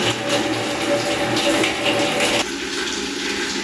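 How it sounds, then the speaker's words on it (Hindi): Water runs steadily from a tap in a bathroom in Kedarnath, a continuous close hiss and splash that drops slightly in level partway through. "बाथरूम में आने वाला पानी देखिए आप"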